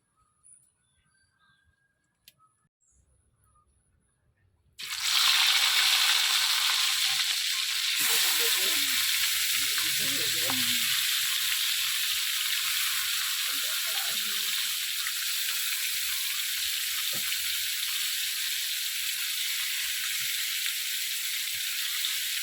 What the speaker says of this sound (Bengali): মাছ ভাজার জন্য কড়াইতে তেল দিয়ে দিলাম